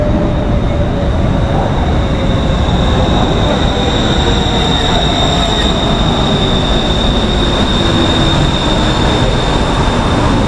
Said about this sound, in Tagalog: So, yan na yung train namin.